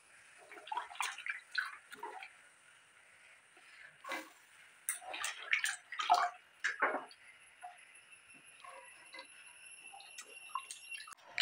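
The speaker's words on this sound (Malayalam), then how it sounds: "ഇതിലേക്ക് ആവശ്യത്തിനുള്ള കുറച്ച് വെള്ളം കൂടി ഒഴിച്ചു കൊടുക്കാം" Water is poured into a pot of green gram and amaranth stem curry, cooked Kerala style in Palakkad, giving irregular splashing and bubbling bursts at close range with no voices.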